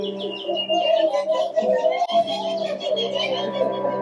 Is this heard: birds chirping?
yes